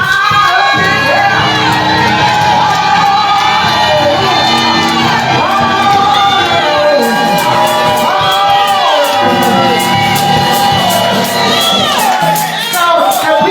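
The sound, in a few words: church congregation shouting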